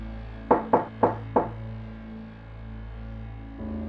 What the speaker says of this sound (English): and knocks on the door.